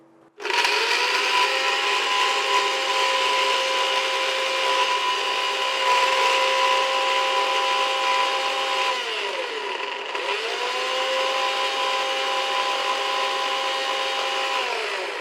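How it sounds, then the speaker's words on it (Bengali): Dates ground into a paste in an electric grinder, a loud, steady motor whine running close and continuous, dipping briefly mid-way as the motor slows and restarts, then droning on to the end without talk. "খেজুরটা আমরা বাটলাম"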